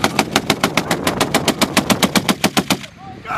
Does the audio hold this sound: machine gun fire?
yes